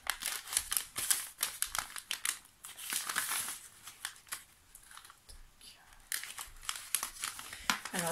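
Rapid crinkling and slicing of packing tape on a small box with a blade, close up, in short bursts with brief pauses, fairly loud.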